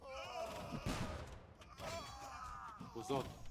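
Bombard cannon and organ gun fire in a France versus Spain real-time strategy match, with several sharp bursts and cracks scattered across the stretch, partly under continuous commentary.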